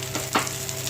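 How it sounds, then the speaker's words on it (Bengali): Whole cinnamon, cloves, cardamom, bay leaf and cumin frying in hot oil, a close, steady sizzle with a couple of brief crackling bursts, no voices. "আর এই গোটা গরম মশলা, এই যে দারচিনি, লবঙ্গ, এলাচ আর তেজপাতা, আর এই জিরের সঙ্গে ভাজবো"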